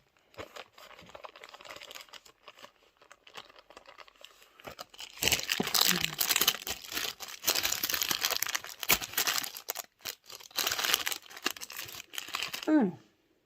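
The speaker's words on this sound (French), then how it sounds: "Maintenant, il faut les coller sur les sachets." Thin plastic sachets crinkle and crackle as labels are pressed onto them, soft handling at first, then dense, close rustling and crumpling with sharp taps, ending in a brief rising squeak; a voice talks quietly in places.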